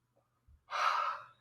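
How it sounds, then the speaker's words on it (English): A long, breathy yawn during a voice warm-up exercise, rising into an open airy exhale that is close and moderately loud, preceded by a soft breath. "And you yawn into your lower back ribs."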